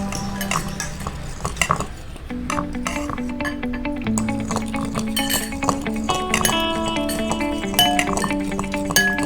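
Homemade slime is stirred with its activator in a container, giving a steady run of light clinks and scraping knocks close by.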